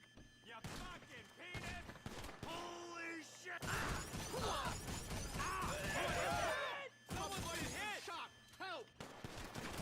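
Shotgun fire in GTA, a dense barrage of loud, close blasts and crashes over several seconds, mixed with mechanical clatter and shattering debris.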